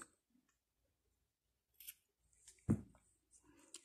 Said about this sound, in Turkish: Ve ipimizi kesiyoruz.